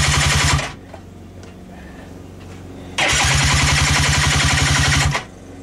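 A vehicle engine running on choke fires up and idles in a fast, loud, pulsing chug, stops, then restarts and runs again for about two seconds before cutting off, close and alone.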